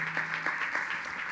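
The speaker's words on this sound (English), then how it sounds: "Clap your hands." A conference audience at the Spring One Tour 2022 opening in Tel Aviv applauds with a steady, even patter of many hands, moderately loud and uninterrupted.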